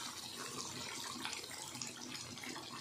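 Water pours into a pan of meat curry cooking without potatoes, making a steady, soft rushing splash that continues evenly for a few seconds.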